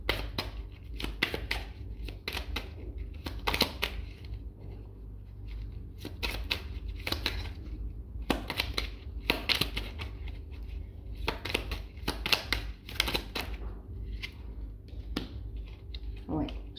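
A deck of angel oracle cards is shuffled by hand in repeated quick riffling bursts, close and fairly soft, with a person talking at moments between the shuffles.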